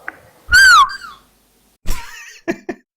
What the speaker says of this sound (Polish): czy to mój gwizd tak echem poszedł?